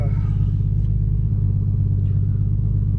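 A Toyota Supra fitted with a new turbo, its engine a loud, steady, close rumble droning evenly throughout with no pauses.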